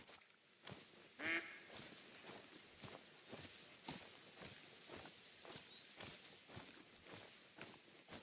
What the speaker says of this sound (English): Oh, well, we got ducks.